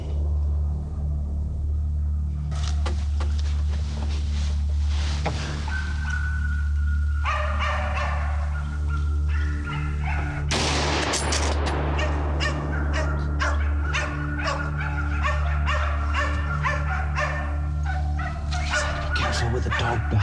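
A hunting dog barks in repeated, loud yelps during a wild boar hunt, with a low engine-like rumble running steadily underneath and scattered rustling and knocks.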